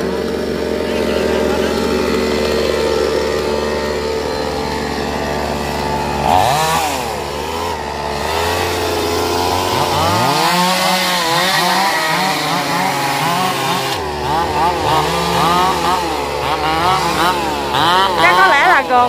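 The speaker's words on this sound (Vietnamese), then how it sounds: "cưa hạ gốc cây sau đằng này rồi mới cưa đằng kia" A loud chainsaw runs continuously while felling a tree, its engine revving and bogging as it bites into the trunk, pitch rising and falling under strain.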